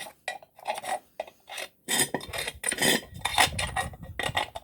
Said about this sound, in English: Let's see if I can take this piece of metal.